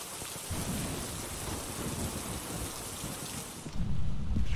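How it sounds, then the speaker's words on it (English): Steady heavy rain pours throughout inside the game Phasmophobia, and near the end a low rumble of thunder swells up beneath the downpour. "Thunder. Right there."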